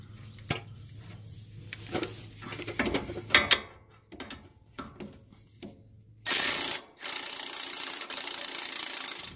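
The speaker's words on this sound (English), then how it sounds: "We're going to remove this fastener right here." A ratchet works a 19mm stabilizer end link fastener on a Toyota Tundra during strut replacement, giving scattered close clicks and taps that end in two longer bursts of loud, hissing mechanical noise.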